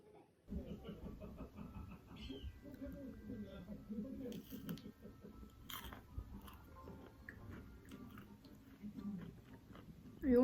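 Close-up chewing of plain yogurt mixed with walnuts: soft, wet mouth sounds with crunchy bites repeating steadily for about ten seconds, fairly loud and near.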